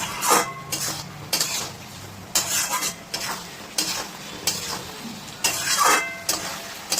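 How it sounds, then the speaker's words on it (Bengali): Aar fish curry masala being stir-fried on a high gas flame: a hot sizzle under repeated metal spatula scrapes and clinks against the pan, arriving in regular strokes about every second, close up. "এটাকে ভালো করে কিন্তু কষে নিতে হবে একটু।"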